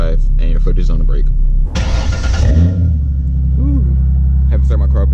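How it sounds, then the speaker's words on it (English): A Ford Mustang engine cranks and catches after sitting two days, a broadband burst settling into a steady low idle rumble, with voices talking before and a murmur after. "Haven't started my car up in like 2 days"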